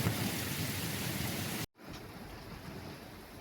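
Heavy rain pours and thunder rumbles in a sudden storm over a motorhome parked on the coast at Gialova, Greece, a steady loud roar that cuts out briefly near the middle before resuming slightly quieter.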